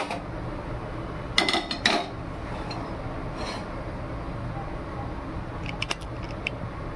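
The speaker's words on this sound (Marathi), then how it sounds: "इथं गॅस गरम करायला कढई ठेवूया" A kadhai (wok) is set down on a gas stove with a couple of sharp metallic clanks early on, then a few faint clinks later over a quiet room hum.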